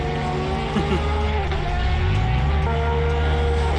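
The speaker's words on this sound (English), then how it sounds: "These cars are very loud." Loud racing car engines roar continuously in Assetto Corsa during a virtual 24 Hours of Daytona practice session, with rising and falling pitch as several cars rev and shift, sustained throughout with no pauses.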